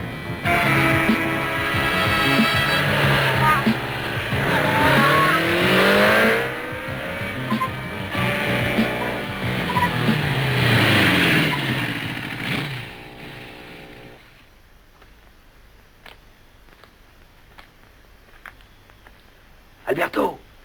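A car in a chase roars as it accelerates hard at speed, a loud engine climbing in pitch over shouted voices, then dropping away to quiet with a few brief clatters near the end.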